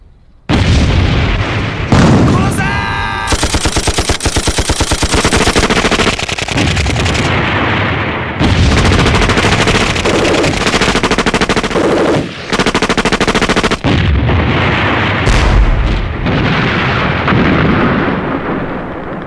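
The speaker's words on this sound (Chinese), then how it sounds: "这炮声不是在附近啊？" Wartime battle scene with artillery and machine gun fire: sustained loud bursts of rapid automatic fire, punctuated by heavy booms and explosions, continuous and close throughout with no speech.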